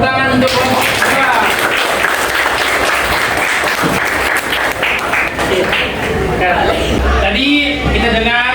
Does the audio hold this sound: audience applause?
yes